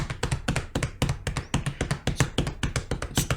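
Someone taps rapidly on a desk right next to the microphone, giving a dense, uneven run of dull knocks and thuds that continues without a break for a few seconds.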